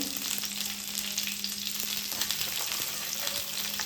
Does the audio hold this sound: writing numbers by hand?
no